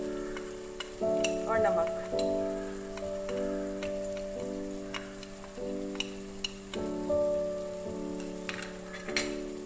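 Meat for dal gosht fries with red chili, coriander and turmeric powders, a steady close sizzle with scraping stirs and sharp utensil ticks under background music, with a brief spoken remark.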